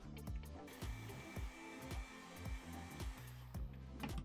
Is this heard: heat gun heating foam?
yes